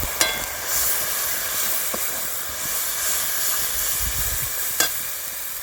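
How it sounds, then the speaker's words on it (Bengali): Peanut paste water poured into a pan of frying chili and turmeric powder for a fish curry, giving a steady hissing sizzle with a few sharp crackles, alone and moderately close. "এবার দিচ্ছি কিছুটা জল, এটা হচ্ছে বাদাম বাটার জল।"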